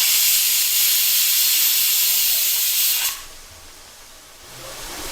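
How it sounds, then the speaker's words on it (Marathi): A pressure cooker whistle vents steam in a home kitchen where vadas are being fried: a loud, steady hiss lasts about three seconds, then cuts off abruptly and leaves a quiet room. "तिकडे कुकरची शिट्टी होता"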